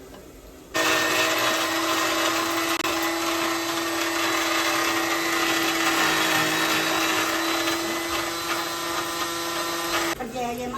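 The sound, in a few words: mixer grinder grinding fried chicken for pickle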